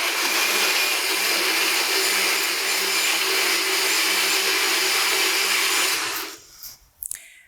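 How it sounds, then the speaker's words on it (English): A small blender whirs loudly and steadily for about six seconds, blending pancake batter with oats, then spins down and stops, followed by a couple of faint clunks. "so what we're gonna do is just blend it in my little blender here. So gonna be a little noisy for 5 seconds."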